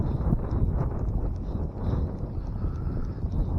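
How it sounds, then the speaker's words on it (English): Steady wind blowing outdoors on open water during a crappie fishing trip, a continuous broadband rush with gusty swells, close to the microphone and with no one talking. "But with this wind blowing the way it is"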